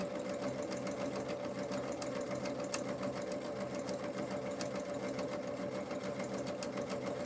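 A home sewing machine stitching around the corner of a fabric placemat, running in a steady fast mechanical whir with a rapid needle rhythm, close and continuous with no speech.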